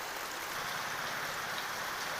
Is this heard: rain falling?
yes